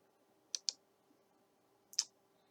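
Three sharp, quiet mouse clicks in a quiet room, two in quick succession and then a single one a moment later.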